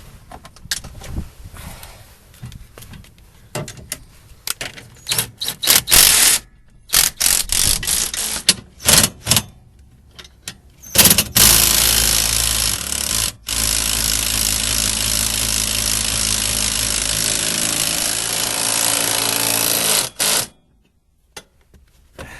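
A power tool tightens seat mounting hardware, giving several short bursts of whirring and rattling followed by one long, steady, loud run that cuts off sharply near the end.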